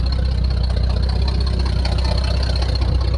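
A 1961 GMC panel truck engine idles steadily with exhaust running, a continuous low rumble held close and fairly loud with no talk over it.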